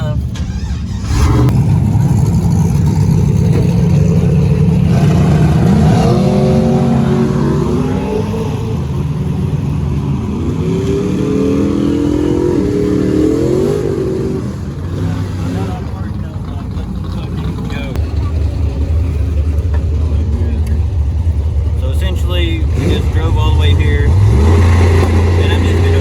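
Race trucks with a rear-mount turbo 4.8 and 5.7 and 6.0 engines accelerate and rev, a loud continuous engine roar rising and falling in pitch across repeated pulls.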